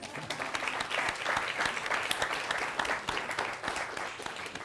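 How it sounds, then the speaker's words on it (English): Audience applause at a talk on the writer Richard Ben Cramer, a fairly quiet, dense wash of many hands clapping with sharper individual claps popping through, sustained throughout. "Now you can give her a round of applause."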